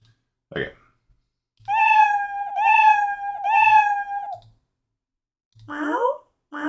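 A human voice imitates a cat, giving three drawn-out, wavering meows in a row, followed by a higher, squeakier meow after a short pause.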